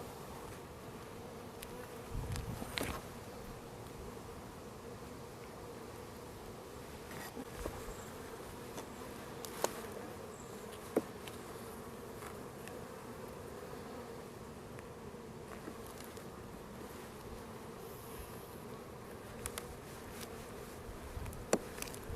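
Bees buzz steadily around a beehive in a continuous droning hum, with occasional individual bees passing close by.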